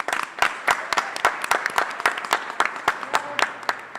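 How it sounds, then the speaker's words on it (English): An audience at a charity challenge finals event applauds. A round of brisk, distinct claps comes from a modest crowd, fairly close, steady throughout with no voices. "Let's give them all one round of applause."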